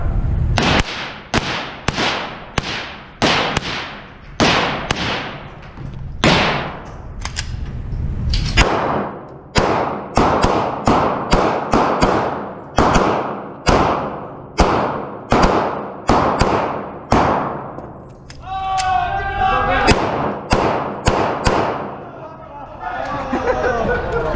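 Rapid gunfire from a Glock 27 pistol and a Ruger 10/22 rifle at an outdoor pin-shooting match, a dense run of loud sharp cracks with a few pauses and shouting voices over them.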